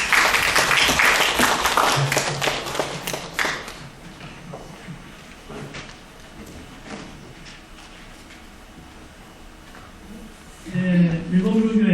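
Audience applause at a Buddhist education academic conference, a burst of clapping from the seated crowd that fades into scattered taps and murmurs before a voice speaks over a microphone near the end.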